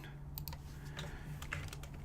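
Computer keyboard typing while marking a chart with callouts in crypto trading software: a quick, irregular run of close keystroke clicks over a steady low background hum, with no voices.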